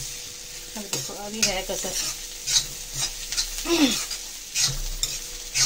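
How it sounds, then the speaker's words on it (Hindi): Bitter gourd masala for stuffed karela stirred and fried in a pan, with scraping strokes over a low sizzle and a voice talking briefly between them. "थोड़ा सा और भूनते"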